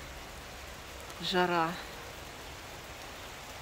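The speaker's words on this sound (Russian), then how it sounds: "И вот такое вот счастье в виде дождя. Слышите, как льет?" Rain pours steadily during a desert thunderstorm in Gobustan, a continuous even hiss filling the whole stretch at a moderate level, with one short spoken word from a nearby voice partway through.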